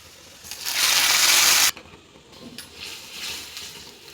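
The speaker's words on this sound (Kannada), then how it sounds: "ಎಣ್ಣೆ, ಸಾಸಿವೆ, ಬೆಳ್ಳುಳ್ಳಿ, ಒಣಮೆಣಸಿನ್ಕಾಯಿ, ಕರಿಬೇವು ಹಾಕಿ ಒಂದು ಒಳ್ಳೆಯ ಒಗ್ಗರಣೆ ಕೊಡಿ" Mustard seeds, garlic, dry chilli and curry leaves dropped into hot oil for a sambar tempering burst into a loud, dense sizzle lasting about a second, then cut off sharply, leaving a quieter crackle and soft stirring.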